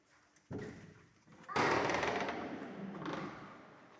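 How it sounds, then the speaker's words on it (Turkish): A door opening at a Turkish-bath rest area of a thermal palace holiday resort, with a sharp thud at the start and then a louder, sustained rush of sound as it swings open, followed by a further surge. "Kapıyı açabiliriz."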